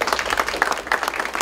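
A crowd applauds leaders at a talk, a brief burst of many hands clapping in a lively, uneven patter that stays at a steady level.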